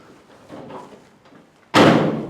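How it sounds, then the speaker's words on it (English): A single loud, close slam as the steel door of a 1954 Ford F600 truck shuts, preceded by soft handling and latch noises. "And also I have an internal handle that will open and close the door."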